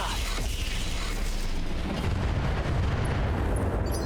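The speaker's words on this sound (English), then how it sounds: "Missiles landed" Heavy missile impacts in the BattleTech RogueTech mech game, a dense, continuous rumbling barrage of booms and blasts that stays loud and close the whole way through.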